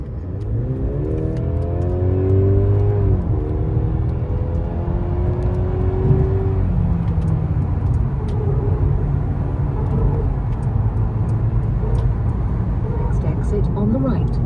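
Mercedes C-Class car driving on a road toward Murter in Croatia, a steady engine hum and road rumble with a rising rev early on, under continuous talk.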